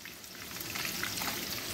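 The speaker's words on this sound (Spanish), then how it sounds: "tenemos ya nuestra cebolla, se está sofriendo" Onion sautés gently in a pan for Chiapas-style chicken mole, making a continuous crackling sizzle at moderate volume. Light popping spatters give it a rain-like texture, and no voices are heard.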